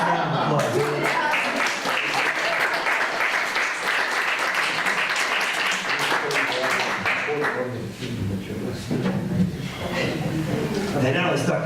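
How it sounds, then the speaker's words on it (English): A live library concert audience applauds after a song, broad continuous clapping with a few chuckles, loud and sustained throughout, easing slightly near the end before picking back up. "Give me a nice round of applause."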